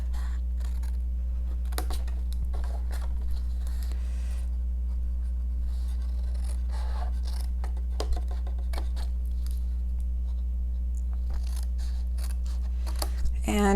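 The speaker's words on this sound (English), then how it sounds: "And one last snip" Scissors snip the flaps of a paper gift box in a string of sharp, close clicks and cuts scattered through the stretch, over a steady low electrical hum with faint handling rustle.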